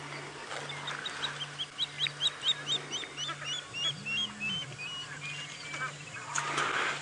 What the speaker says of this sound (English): got a noisy Egyptian goose